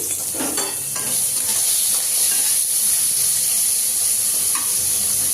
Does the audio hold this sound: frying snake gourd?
yes